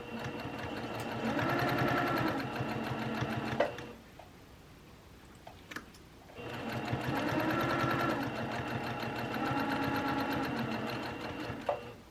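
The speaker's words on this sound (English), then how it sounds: "So I'm sewing my pockets on." A sewing machine stitching pockets onto a shacket runs in two steady humming bursts of rapid needle chatter, separated by a short quiet pause, close and moderately loud.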